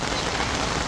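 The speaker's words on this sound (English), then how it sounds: "This is when it first started raining, and it did end up raining harder than this." Steady rain pours down at an outdoor market, a dense, continuous hiss of drops striking surfaces, constant and fairly loud with no breaks.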